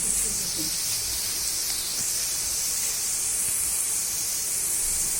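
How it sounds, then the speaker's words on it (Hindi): Onions sizzling and frying in a pan until brown, a steady loud hiss of hot oil throughout with faint low kitchen noise beneath. "प्याज को तब तक फ्राई करना है जब तक ये इसका कलर ब्राउन ना हो जाए"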